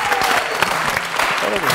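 An audience at a television game show applauds, a dense, steady patter of many hands clapping at moderate loudness, with voices mixed underneath.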